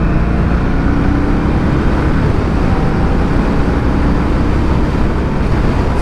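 A 2022 Indian Scout Rogue motorcycle rides along the road, giving a loud, steady, unbroken roar of engine and wind rush with no talking.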